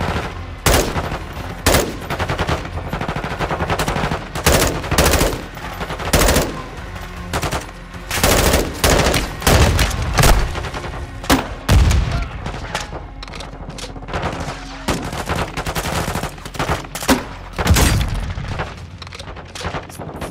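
Dense, loud weapon fire in Call of Duty Modern Warfare 2, with rapid bursts and heavy booming blasts from a grenade launcher amid the shooting, continuing nearly nonstop throughout.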